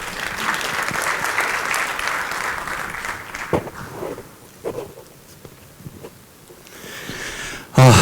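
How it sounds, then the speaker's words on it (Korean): Lecture audience applauds as a professor is introduced to give a talk on precision education; dense clapping for about three seconds, then scattered claps, shuffling and footsteps as it dies away, ending in a loud thump. "박수로 모시겠습니다."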